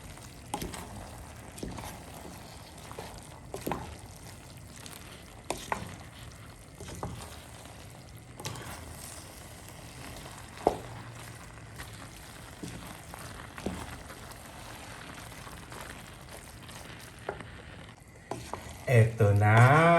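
Noodles and vegetables stir-fried in a hot pan, a steady low sizzle broken by repeated scraping and tossing stirs, with a louder clatter near the end.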